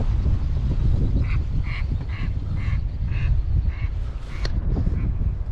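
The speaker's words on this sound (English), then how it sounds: "That was about 30 mallards sleeping right here." A flock of about 30 mallard ducks bursts up from a river, with a rush of wingbeats and water under a run of loud, repeated quacks and honks, close by and alone.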